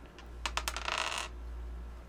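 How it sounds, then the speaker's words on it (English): A regular six-sided die is rolled onto a table during a tabletop role-playing game. A quick burst of close, sharp clattering taps settles within about a second over a steady low hum. "Roll a 6-sided die."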